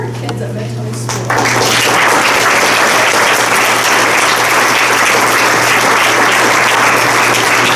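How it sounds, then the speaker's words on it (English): Applause at a school board meeting honouring students of an elementary school: a room of clapping hands that swells after a second and stays loud and dense, steady to the end. "give a round of applause just for our kids at Mentone School"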